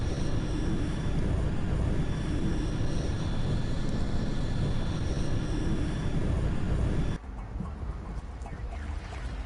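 A spacecraft lands in the Mass Effect Legendary Edition video game, with a loud, steady engine roar that fills the clip and then drops off suddenly near the end.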